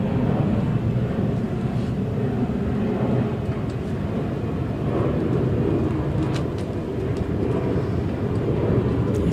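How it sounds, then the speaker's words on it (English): An airplane passes overhead during an outdoor wheelchair tennis masters singles match: a steady, broad low rumble that holds throughout, fairly loud, with no talking. "He's waiting for that plane"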